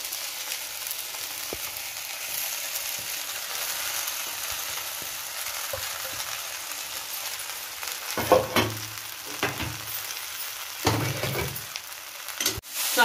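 Soaked sago pearls frying gently in a pan over low flame, a steady soft sizzle with a few louder stirring scrapes and clatters toward the end, no talking.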